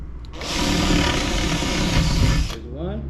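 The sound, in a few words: drill boring holes in wood corners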